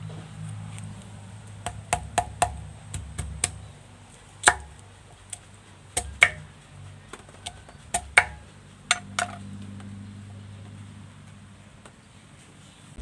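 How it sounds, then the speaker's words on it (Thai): Knife chopping noni fruit into slices, with sharp separate cuts arriving in irregular bursts against a quiet background and a low hum, close and distinct, no talking. "เราก็จะหั่นให้เสร็จทุกลูกค่ะ"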